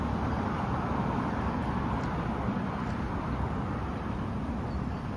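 Continuous low rumble of road traffic, a steady wash of passing vehicles with no distinct horns or voices, fairly loud and close.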